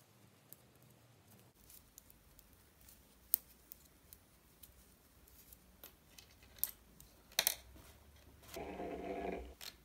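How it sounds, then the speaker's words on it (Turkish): Scissors snip through knitting yarn while a baby suit is knitted, giving faint, sparse clicks and rustles in a quiet room, with a louder brushing burst at the end. "İpi kesiyorum."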